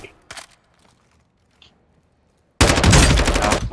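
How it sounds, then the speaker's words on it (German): Loud, dense burst of automatic gunfire in the video game Warzone 2.0, erupting after a few faint shots and clicks and sustaining rapid, near, continuous fire to the end. "Stehe unter direktem Beschuss."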